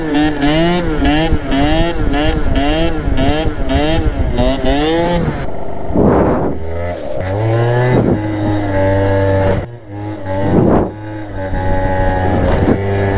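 An original Piaggio Zip scooter in a parking lot revs loudly and repeatedly, its engine note rising and falling in quick bursts before settling into a lower, steadier run with a few further throttle blips.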